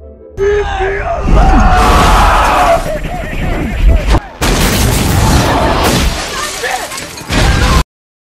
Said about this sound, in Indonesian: para petugas pun segera melepaskan tembakan